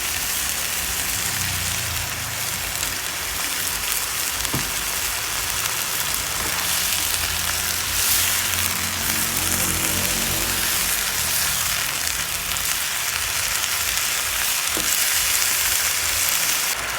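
Mushrooms stir-frying with oyster sauce for a spicy basil dish, a loud, dense, unbroken sizzle that sounds almost like rain, with a few faint clinks of utensils over its full length.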